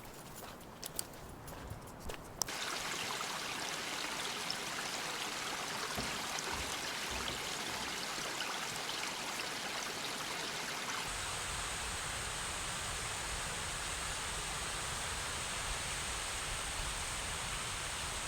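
Rainbow Creek beside the Turnagain Arm Trail rushes in a steady, broadband wash of flowing water, close and continuous, with a few faint footstep-like bumps at the start.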